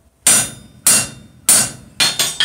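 A rivet on box jaw tongs is hammered cold, five sharp metallic blows close up, the first three evenly spaced and the last two quicker, each ringing briefly before fading.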